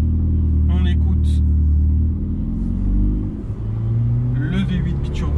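A Ferrari 488 Pista 3.9-litre twin-turbo V8 engine rumbles deep and steady up close, the tone shifting midway, while short bursts of speech come through over it.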